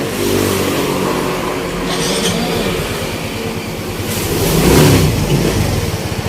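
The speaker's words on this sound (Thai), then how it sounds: "ฟังเสียงเครื่องดูก็ได้ครับ นิ่มเงียบเรียบร้อย" Repaired Honda GT125 motorcycle engine running steadily close by, a loud continuous rumble with a slight swell in revs near the end, no talk over it.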